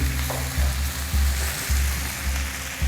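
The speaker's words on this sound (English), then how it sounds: "So we'll just saute them like this first" Potatoes sautéing in a pan, a loud close sizzle with rhythmic scraping strokes roughly every half second as they are stirred, no voices.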